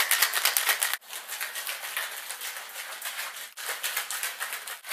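Ice rattling hard inside a cocktail shaker in quick, dense bursts, with two brief pauses in the shaking, close and fairly loud.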